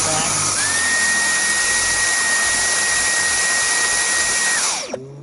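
A vacuum cleaner runs continuously on its medium setting over carpet, a steady loud whine and airflow roar holding for about five seconds before cutting out abruptly at the end.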